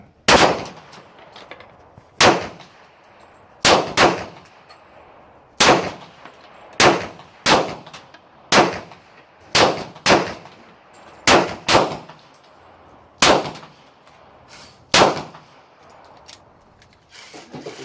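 A Hudson H9 pistol fires standard S&B ammunition outdoors, with about fourteen sharp, loud single shots spaced irregularly, each ringing briefly before the next.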